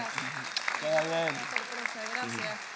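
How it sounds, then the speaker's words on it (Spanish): Brief scattered applause from an audience at a marketing talk in Uruguay, with a person speaking over the clapping. "Un aplauso para Wina."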